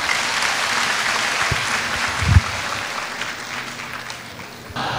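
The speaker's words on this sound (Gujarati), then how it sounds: "આવનારા દરેક મહેમાનોને આપણે જોરદાર તાળીઓથી વધાવીએ" A crowd gives loud, continuous applause to welcome guests at a Gujarati stage gathering, with a single thump partway through and the clapping holding steady to the end.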